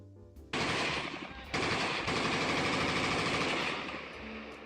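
Sustained rapid gunfire, like a machine gun firing long continuous bursts, loud and dense, starting abruptly and pausing briefly before resuming without voices.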